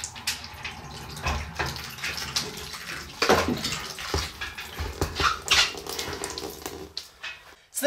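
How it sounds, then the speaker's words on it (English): Water trickles and splashes from a radiator being pulled off a wall without draining, with irregular drips and clunks of handling close by over several seconds, no talk. "you will get a little bit of water come out"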